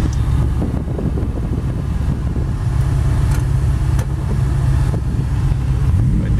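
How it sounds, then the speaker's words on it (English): A 1956 Chevy 210 with a 502 big block V8 driving down the road, a loud continuous low engine rumble with steady road and wind noise inside the cabin. "I'm going to take it for a quick little test drive"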